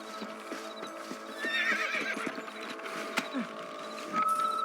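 Horse whinnies and hooves clip-clop in Red Dead Redemption, with a steady rhythmic hoof beat under a game music drone and a bright neigh rising midway, loud and close, with no talk.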